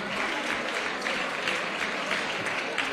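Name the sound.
applause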